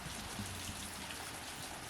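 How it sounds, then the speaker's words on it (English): Heavy wind-driven rain falls sideways during Hurricane Ian, a steady, faint wash of drops hitting surfaces with no break and no voices. "Got sideways rain,"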